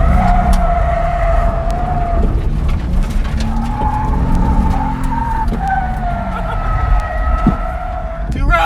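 A Nissan 350Z drifts on a street, its tires skidding and squealing in long wavering tones over a loud, rumbling engine, close and continuous throughout.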